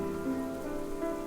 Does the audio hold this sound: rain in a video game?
yes